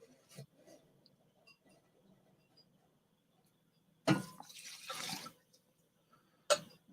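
Cold coffee poured into a container, heard as a short splashing pour followed by a longer trickle and a final quick splash, close and fairly quiet in an otherwise still room.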